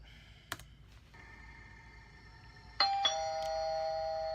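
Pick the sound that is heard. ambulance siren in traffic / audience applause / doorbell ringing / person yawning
doorbell ringing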